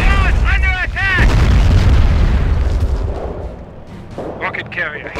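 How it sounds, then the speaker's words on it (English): Artillery barrage in Company of Heroes, with loud booming impacts and rumbling blasts that dominate the mix, while shouted game voice lines come before and after the explosions. "Barrage, on target! Commencing barrage!"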